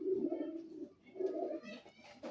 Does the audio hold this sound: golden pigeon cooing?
yes